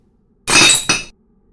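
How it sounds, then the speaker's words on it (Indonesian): A glass coffee cup falls and shatters as a sound effect in a horror audiobook: a loud, bright crash with a second burst of breaking shards, then silence. "Ada benda yang jatuh, pecah berserakan. Gelas kopi yang sudah dicucinya."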